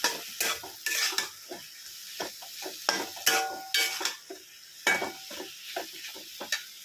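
Crushed peanut powder being stirred into a ridge gourd curry in a pan, a spoon scraping and clinking in repeated short strokes, close and fairly loud, with no talking.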